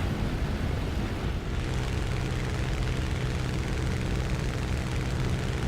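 A propeller plane engine in the combat flight game War Thunder drones steadily and loudly during a dive, a dense, unbroken roar with no voices over it.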